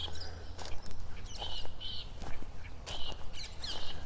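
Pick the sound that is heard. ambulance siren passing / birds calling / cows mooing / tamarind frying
birds calling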